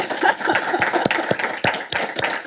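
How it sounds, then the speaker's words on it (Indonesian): A studio audience applauds a guest arriving on a music and politics talk show, giving a steady, moderately loud round of clapping with a few sharper individual claps standing out. "Tepuk tangan buat Najwa Shihab"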